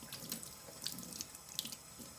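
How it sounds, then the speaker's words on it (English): Kitchen tap running into a sink while a hard boiled egg is peeled under the stream, a steady close splashing gush with small irregular spatters and drips as hands work in the water. "peel it under the running water"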